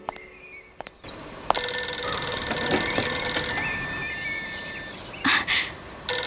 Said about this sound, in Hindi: शायद तुम्हारा फोन बज रहा है।